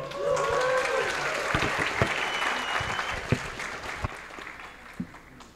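Audience applause fills a university inaugural lecture hall, dense and steady with a few sharper claps standing out, with some faint voices and tones underneath.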